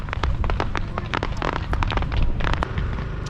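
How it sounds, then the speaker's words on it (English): Fireworks at the Lewes Bonfire Society's site on Landport Bottom in Lewes, bursting in a dense, continuous barrage of loud crackling bangs and pops over low rumble, with faint voices in the crowd. "you can hear me over the fireworks"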